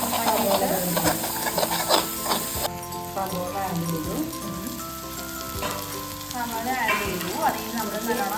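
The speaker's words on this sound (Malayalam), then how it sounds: "പ്രോൺസ് നമുക്ക് ഫ്രൈ ചെയ്തെടുക്കുക" Prawns frying in a pan for a prawn biryani, a continuous crackling sizzle with stirring scrapes, a voice talking over it.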